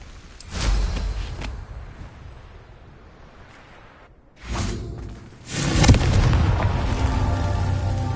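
Confringo spell explosions in a Hogwarts video game: deep booming blasts with whooshing bursts, one early and two larger ones later, loud and close with rumbling tails.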